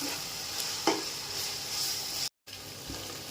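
Ginger garlic paste frying in oil for chicken biryani, a steady close sizzle with a few soft stirring scrapes and a brief dropout near the end.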